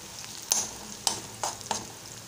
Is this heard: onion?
yes